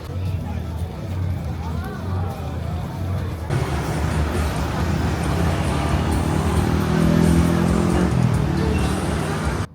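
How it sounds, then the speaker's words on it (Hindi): A motorbike rides through busy night traffic, its engine drone steady under road noise and surrounding vehicles, growing louder and rougher midway as it speeds up, with people talking over it. "मोटर बाइक उड़ा के ला रही है"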